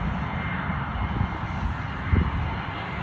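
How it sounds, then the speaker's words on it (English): A private jet engine at an airport, heard as a steady broadband roar with a faint high whine, constant and moderately near for the whole span. "we got a private jet getting ready to take off"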